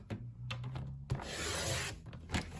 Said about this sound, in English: So I'm going to lay this on my trimmer, and I'm going to put it on the 7 1/4 inch mark.